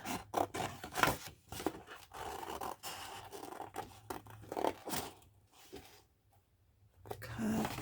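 Scissors cut paper for a handmade junk journal, a series of quiet snips and papery rustles in irregular bursts, with a short lull before a final cut.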